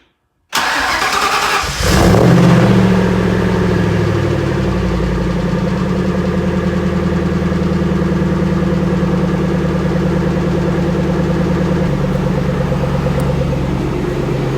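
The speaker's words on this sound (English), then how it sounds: "So let's get a cold start here." A Yeti's engine cranks briefly and catches on a cold start, then settles into a steady, loud, close idle with a constant low rumble that runs unbroken for the rest of the stretch.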